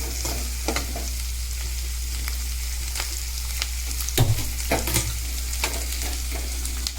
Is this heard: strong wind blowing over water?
no